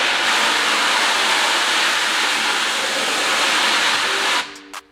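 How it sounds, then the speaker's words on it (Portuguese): A strong pressure water jet sprays a silkscreen to wash off emulsion left uncured by light, producing a loud, steady hiss close by that cuts off abruptly near the end, followed by a few drips and splashes. "com a pressão da água a gente tira a emulsão que não foi curada pela luz"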